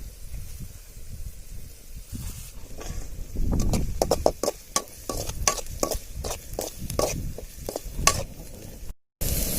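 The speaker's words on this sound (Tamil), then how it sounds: "ஒரு 10 இலை நம்ம வந்து கருவேப்பிலை போட்டுக்குவோம்" Curry leaves and salt fry in hot oil for pepper chicken, a steady sizzle broken by a quick run of sharp stirring scrapes and taps against the pan.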